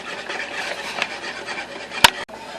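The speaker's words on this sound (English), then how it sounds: "you're just going to whisk it and whisk it and whisk it until it's" A whisk scrapes steadily around a pan as butter is worked into Alfredo sauce, a close, continuous rubbing stir with one sharp knock near the end.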